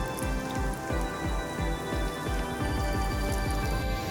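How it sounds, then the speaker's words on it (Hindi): Rain falls outdoors during monsoon weather, a continuous patter on a surface with repeated soft low thuds throughout, with no voices. "हमारे यहाँ बारिश हो रही है"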